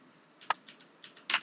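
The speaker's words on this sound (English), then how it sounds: "I'm having a hard time typing today." Keys tapped on a computer keyboard while setting up a video game in Unreal Engine, a few separate clicks and a short burst of fast taps, close and fairly quiet, with no talking.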